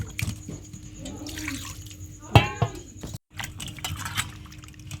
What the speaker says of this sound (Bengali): আগে মাংসটা আমি ভালো করে জল দিয়ে ধুয়ে নেবো কচলে কচলে